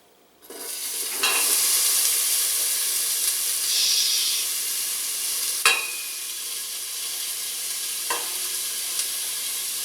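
Diced yellow onion sizzles in hot olive oil, a steady loud hiss with a few sharp bursts as the pieces are stirred, the start of a spinach and mushroom risotto.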